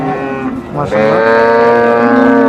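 A dairy cow at a cattle market moos loudly and close by, one long drawn-out low call with a rising tone near the end, filling most of the clip.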